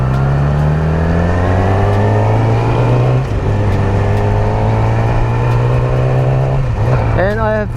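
A motorcycle engine runs with a steady, loud, close droning hum, dips briefly, then surges in a quick rising rev at the end.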